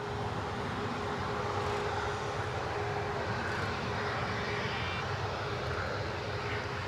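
An airplane departing for Tenerife roars steadily throughout, its engine noise broad and constant at moderate distance, with no break or talking.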